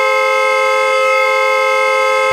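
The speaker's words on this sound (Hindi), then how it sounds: "अरे कौन है ये नॉन स्टॉप हॉर्न बजा रहा है?" A loud car horn blares continuously without a break, one steady held tone from start to finish.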